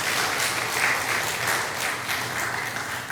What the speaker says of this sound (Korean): 우리 하나님 앞에 영광의 박수 올려드리도록 하겠습니다.